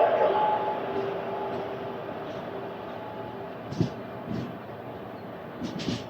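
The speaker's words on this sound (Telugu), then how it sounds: "WAG 7 లోకోమోటివ్ ఇది. గుంతకల్ డివిజన్కి సంబంధించిన లోకోమోటివ్." A WAG 7 electric locomotive of the Guntakal division hauls the Tirupati–Secunderabad Padmavati superfast express, giving a steady rumbling rail drone with faint tonal hum and a few brief clanks, heard at moderate distance without speech.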